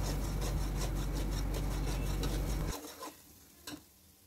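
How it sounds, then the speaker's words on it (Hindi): Cumin and coriander powder masala fries in a pan with a loud, steady sizzle and stirring for a few seconds, then drops to quiet with a couple of brief scrapes. "अब हम क्या करेंगे कि इसको 2 मिनट के लिए अच्छी तरह से भून लेंगे"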